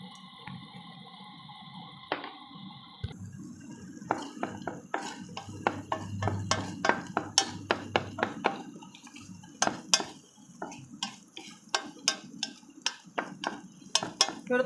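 Eggs being stirred into sardines sautéing in a pan, with repeated sharp clinks of a utensil against the pan and a soft underlying sizzle, close and moderately loud.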